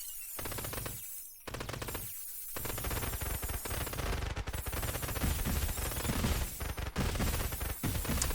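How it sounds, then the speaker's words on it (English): Rapid blaster fire from the bullet-heaven game Solar Survivors, a dense, continuous stream of loud shots packed into a chaotic barrage that barely pauses over several seconds. "Go behind them to get some blaster shots as well."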